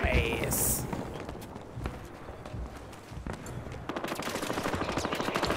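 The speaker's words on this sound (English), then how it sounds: "Start shooting!" Automatic gunfire and single shots from the online shooter game Battlefield Hardline crackle in rapid bursts, growing denser toward the end, with game footsteps and players talking over the action.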